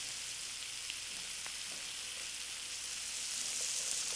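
Onion, garlic and bacon frying in a pan give a steady, bright sizzle with faint stirring ticks, close and continuous without talk.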